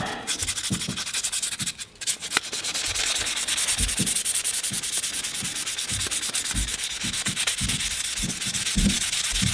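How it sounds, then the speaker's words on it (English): Steady, continuous hand sanding of a fixed-blade knife handle with 600 grit sandpaper, close and loud with rapid back-and-forth scratchy strokes for the whole stretch, no voices. "now we're going to finish this up with some 600 grit"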